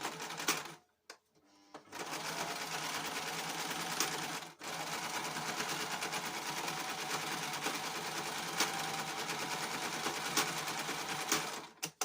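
A sewing machine runs a zigzag stitch on junk journal pages, a loud, steady, fast mechanical whirr broken by two short stops early on, with no talking.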